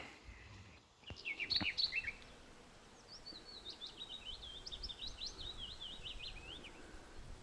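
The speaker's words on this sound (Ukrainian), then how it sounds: "Прислухайтесь просто як красиво співають ці пташки." Birds chirp and trill in quick bursts in a Carpathian forest, against a quiet outdoor background, the calls fairly faint and scattered.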